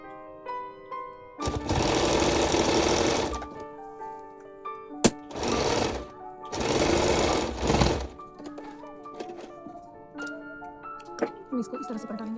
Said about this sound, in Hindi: उसके बाद अपना आधा इंच लेके इसका सिलाई कर लेंगे